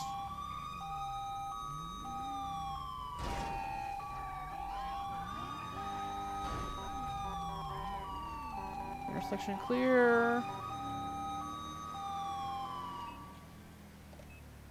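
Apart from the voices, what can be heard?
police sirens in a video game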